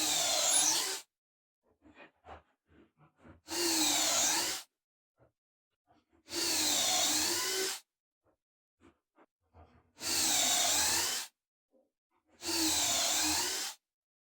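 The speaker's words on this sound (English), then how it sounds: "we're going to have to drill these pocket holes with the thing already put together" A power drill bores pocket holes into an assembled wooden ottoman frame, running in five loud, steady bursts of about a second each, separated by pauses filled with light handling clatter.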